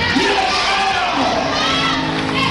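A church congregation screaming and cheering in amazement, a dense, loud crowd roar of shouting voices that carries on without pause.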